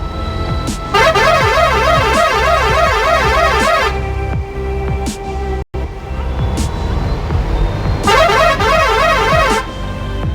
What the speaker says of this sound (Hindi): गाड़ी का हॉर्न बहुत अच्छा लगा हुआ है।